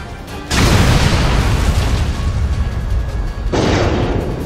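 Bomb explosions in Resident Evil 6, heard as two heavy, loud booms, the first swelling into a long rumbling roar and a second blast breaking in near the end.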